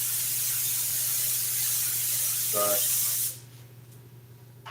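A cleaner sprays from a can inside a car interior in a steady broadband hiss lasting about three seconds, close and loud, then cutting off; a brief word is spoken near the end.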